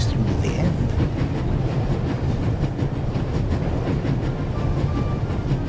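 A train running at full speed in the adventure game The Raven Remastered, a loud, steady rumbling roar with rhythmic rail clatter and rushing wind, continuous and close.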